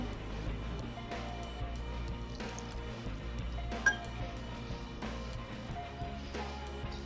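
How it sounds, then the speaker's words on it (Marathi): Soft wet squishing and occasional dripping with a faint clink, steady and close, as dough is kneaded with lukewarm water for coconut karanji; no voices. "आपल्याला हळूहळू पाणी ऍड करायचं आहे यामध्ये आणि त्याचा एक डो तयार करून घ्यायचा आहे"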